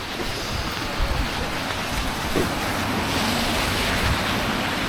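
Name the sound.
river flowing past Gillside Farm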